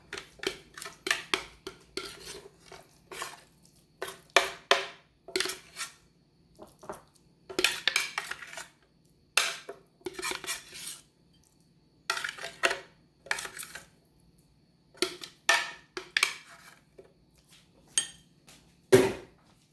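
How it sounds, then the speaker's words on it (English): Pesto chicken with macadamia being spooned from a cooking pot into a bowl: a string of close, irregular clinks and scrapes of a metal spoon against the cookware, in short bursts separated by brief pauses. "So I am going to go ahead and spoon it out into a bowl for you to see how this yummy stuff turned out."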